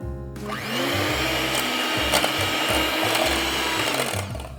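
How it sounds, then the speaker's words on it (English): An electric hand mixer whips separated egg whites in a bowl for waffle batter, a steady loud motor whir with rhythmic low pulsing as the beaters churn, running continuously throughout without talk. "I'm actually going to take the egg whites and I'm mixing them separate"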